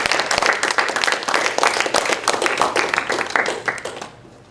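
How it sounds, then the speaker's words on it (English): A round of audience applause after a lecture, lively clapping with distinct hand claps that holds, eases off, then stops abruptly into quiet. "We're going to do a quick round of applause with your questions."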